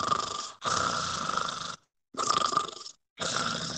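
A voice imitates snoring in three long, rasping snore sounds with pauses between them, loud and close with no other speech.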